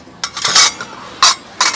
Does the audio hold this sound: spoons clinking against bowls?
yes